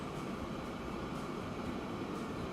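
A train running on a high-speed track in the Transport Fever 2 game gives off a steady, faint rushing rumble that holds unchanged throughout, with no voices.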